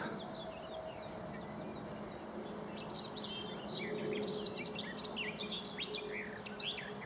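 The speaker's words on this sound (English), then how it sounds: "Northern Nightingale." A nightingale sings varied, rich phrases of whistles and trills, growing more active midway, set against a quiet rural background hum on a walk between Uckfield and Lewes.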